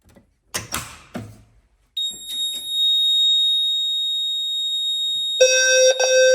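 A pull station is operated on a fire alarm demo board: a few clicks and clatters, then a steady high-pitched alarm tone comes on, joined near the end by a loud pulsing horn.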